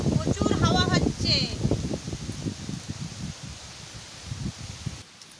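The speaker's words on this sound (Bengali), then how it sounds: "প্রচুর হাওয়া হচ্ছে।" Strong wind gusts across an open-air spot beside a wood cooking fire, making a steady rustling roar; a voice talks over it at first, then the wind carries on alone and slowly fades.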